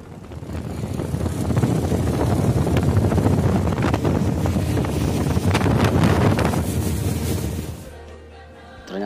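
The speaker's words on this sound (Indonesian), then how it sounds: "terpaan angin berada duduk di atas saat speed berjalan" Strong wind rushes and buffets over someone seated on top of a speedboat on the Mahakam river, a loud continuous roar with gusty surges that drops away abruptly near the end.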